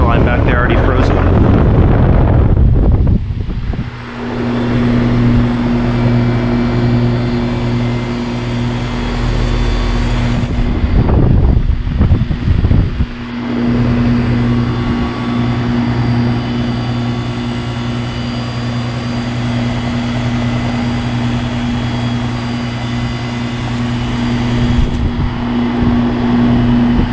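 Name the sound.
Goodman GSH13 heat pump starting up in heat mode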